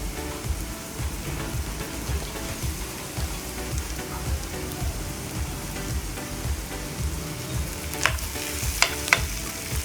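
Potatoes sizzle in frying masala in a pan, a dense steady crackle with soft rhythmic stirring scrapes and a few sharper spoon clicks near the end, close and without talk.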